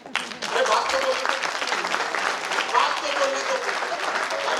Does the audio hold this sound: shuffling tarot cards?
no